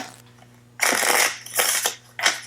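Uno playing cards being shuffled up close, three quick riffling bursts separated by short pauses.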